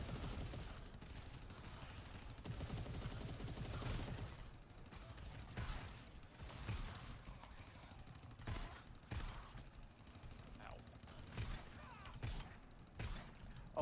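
A choke shotgun fires in the video game GTFO, a series of sharp, separate blasts spaced a second or two apart amid clicking weapon mechanisms and a low background rumble.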